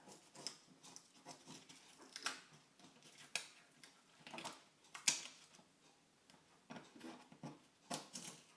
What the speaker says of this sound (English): I'm going to peel this off and throw that away.